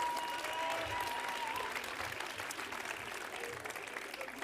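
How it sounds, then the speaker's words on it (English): A theatre awards audience applauds a tenor group's performance, a broad, fairly distant wash of clapping that holds steady and eases slightly toward the end, with faint voices underneath. "A round of applause, please."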